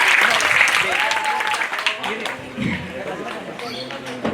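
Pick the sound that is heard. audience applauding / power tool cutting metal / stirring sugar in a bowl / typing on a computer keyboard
audience applauding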